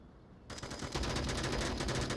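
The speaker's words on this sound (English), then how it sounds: "Gunshots coming out from Snooper on a section 1 trying to make that cross." A burst of rapid automatic gunfire from the virtual reality shooter Onward starts abruptly after a brief quiet moment, the shots coming in a fast, even rhythm, loud and close, with no voices.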